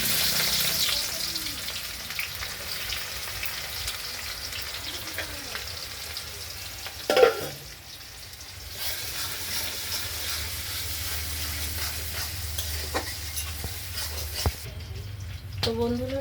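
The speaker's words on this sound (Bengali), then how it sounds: "চিকেনটা কষানোর জন্য কিছু ফোড়নে দিয়ে দিচ্ছি মশলা। তেজপাতা, আস্ত গরম মশলা, এবার পেঁয়াজটা দিচ্ছি।" Sliced onions fry in hot oil with bay leaves and whole garam masala for chicken biryani, a steady close sizzle with a stirring clatter midway and a voice talking.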